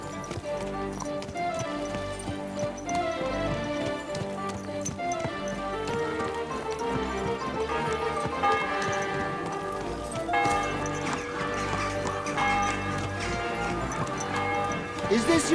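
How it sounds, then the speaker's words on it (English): Horse hooves clip-clopping steadily in Kingdom Come Deliverance II, a continuous ride set under a dense game music bed and other in-game sounds. "Is this your first time riding a horse"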